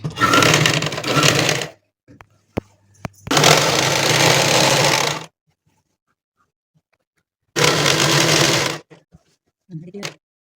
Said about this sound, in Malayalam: ഒരു മടക്കി വീണ്ടും ഒരു മടക്കി